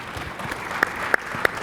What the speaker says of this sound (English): that applause was not nearly hearty enough.